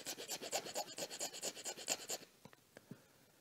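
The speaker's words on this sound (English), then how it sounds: "So I'm going to file it on an angle like this." Rhythmic rasping strokes of a file on a plastic statue part, about a dozen quick even strokes close up, then a few scattered light taps and scrapes as it stops.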